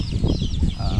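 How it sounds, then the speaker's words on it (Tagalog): Native chicken chicks clucking and peeping close by in a backyard, soft overlapping calls over a low rumble of background noise. "Meron din akong mga sisiw na mga native dito."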